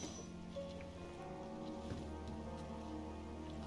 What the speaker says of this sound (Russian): Там вообще дождь на улице.